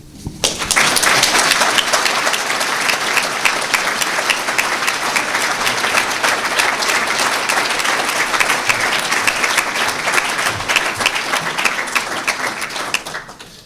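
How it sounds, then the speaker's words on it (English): A large audience at a Special Olympics luncheon claps in sustained applause that holds steady for several seconds before tapering off. "How about another round of applause for those two?"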